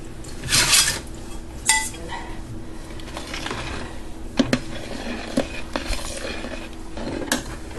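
A ladle scrapes and clinks against a pot and bowl while creamy tomato basil soup is dished up, with metallic taps and chinks over low kitchen background noise.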